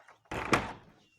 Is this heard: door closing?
yes